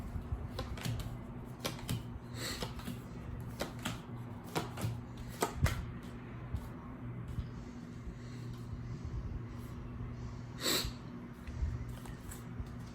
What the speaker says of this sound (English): we're just going to shuffle them a little bit more